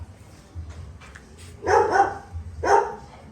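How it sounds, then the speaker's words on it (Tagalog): A large dog barks twice, loud and fairly close, the barks about a second apart over quiet outdoor background. "Ang laki pala ng aso dito, guys."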